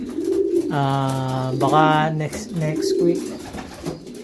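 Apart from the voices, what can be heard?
pigeons cooing in a racing pigeon loft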